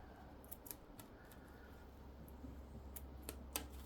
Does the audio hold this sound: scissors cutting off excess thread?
yes